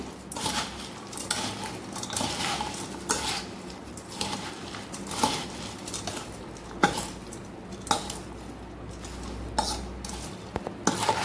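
Puffed rice chaat is mixed with green chutney and sweet-sour chutney in a bowl, with repeated close clinks and scrapes of a spoon against the dish in an irregular stirring rhythm.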